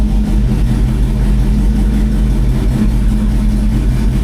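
GMC Sierra pickup engine with a swapped-in manual 6-speed transmission, running steadily and loud up close as it is put in first gear, a constant low rumble with no talk over it.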